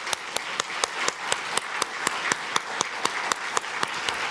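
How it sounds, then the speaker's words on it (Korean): A church congregation applauds the teachers steadily, dense clapping with sharp individual claps standing out at a regular pace, fairly loud and without voices. "우리 교사들을 위해서 우리 격려의 박수 부탁합니다"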